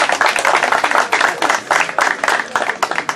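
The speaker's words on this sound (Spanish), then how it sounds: "un aplauso" Brisk applause and clapping from a gathering at a board of directors meeting welcoming the cup organization's officers, loud and close, dense and continuous throughout.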